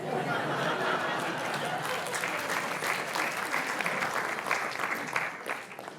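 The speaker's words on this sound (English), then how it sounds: "Now, you shouldn't have clapped." A lecture audience applauds, a dense sustained roar of clapping at steady loudness with some crowd murmur mixed in, tapering slightly at the end.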